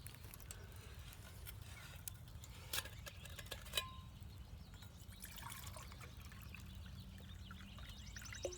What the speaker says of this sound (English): I'm going to put some water on